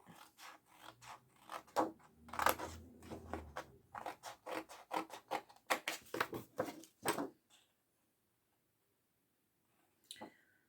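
Paper card being cut for an Advent calendar Christmas craft, a rapid run of close, crisp snips and rustles for several seconds, then a pause and one brief final cut.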